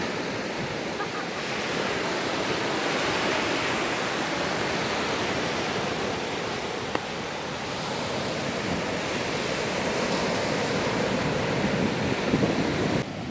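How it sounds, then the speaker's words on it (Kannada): Sea waves break steadily on the shore at Baga Beach in North Goa, a continuous broad surf roar with gentle swells in loudness, heard alone without talk. "ಅಲೆ ನೋಡಿ ಹೆಂಗೆ ಬರ್ತಾ ಇದೆ."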